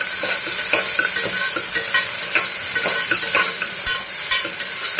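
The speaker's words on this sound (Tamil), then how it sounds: "இப்போ வெங்காயம் போட்டுக்கலாம். வெங்காயம் நல்லா வதக்கிக்கலாம்." Onions sautéing in hot oil after mustard seeds, a loud continuous sizzle with frequent stirring scrapes and clicks throughout, close up and without any voice.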